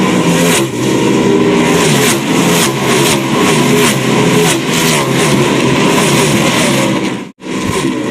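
NASCAR stock cars roar past at the 2002 Virginia 500, a loud, continuous engine drone with rising and falling pitch as cars pass, broken by a brief near-silent dropout near the end.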